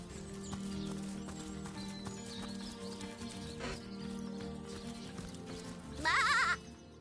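A sheep in the video game Divinity Original Sin lets out a single loud, wavering bleat near the end, after a stretch of quieter ambient game sounds that include faint hoof-like clops.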